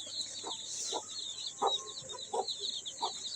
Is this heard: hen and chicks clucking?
yes